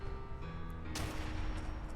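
Gunfire from an NDR rifle in Fallout 4 sounds in rapid succession: a steady hum first, then a sharp, loud crack followed by continuous rattling shots and clatter that carries on with no voices.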